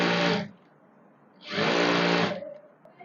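A sewing machine stitches stretched elastic onto a sharara waistband in two close, loud whirring bursts separated by a short quiet pause.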